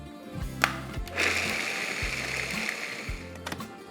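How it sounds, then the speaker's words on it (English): A food processor grinds walnuts to a sand-like dry crumb, a steady loud whirring motor with the nuts rattling and hissing against the bowl throughout. "we're going to process it until we get a sand-like consistency"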